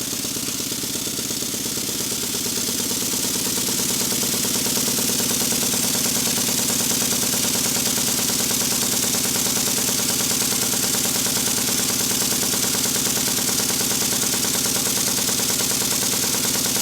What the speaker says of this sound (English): I'm going to show a steam engine running in the workshop